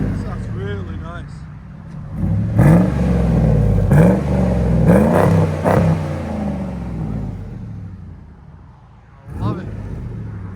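A 2005 Dodge Ram single cab with a 5.7L HEMI V8 and Flowmaster Flow FX exhaust revs in loud, close bursts, its deep engine rumble rising and falling, while someone talks over and between the revs.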